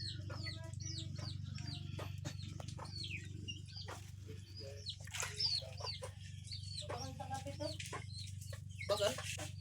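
Chickens cluck and squawk in short bursts over a steady low hum, with a few louder calls standing out near the end.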